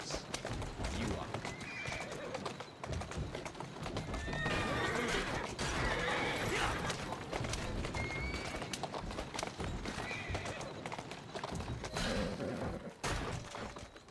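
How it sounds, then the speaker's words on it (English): A horse in the video game Assassin's Creed Syndicate whinnies several times over hoofbeats and busy game background sounds, while a person talks throughout. "Who's a good horse?"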